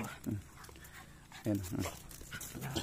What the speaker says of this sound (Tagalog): Ari pa po yung isang aso namin.